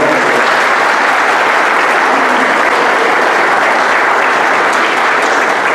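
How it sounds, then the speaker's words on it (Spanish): An audience gives a teacher a warm round of applause at a municipal event, a thick, even roar of clapping hands that stays loud and steady from start to finish. "un gran aplauso por su labor realizada"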